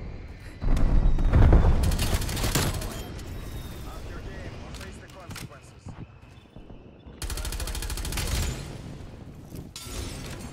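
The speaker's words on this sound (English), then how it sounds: "teammate's got a strafe run" A strafe-run airstrike in Call of Duty Cold War hammers down as heavy rapid gunfire in two loud bursts, with booming impacts and a quieter stretch of scattered shots between them.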